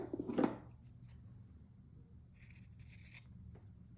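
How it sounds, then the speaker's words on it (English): Scissors cut through pointe shoe elastic with a short, close snip near the start, followed by quieter rustling handling and a faint second crunch toward the end. "I'm going to make a cut right here."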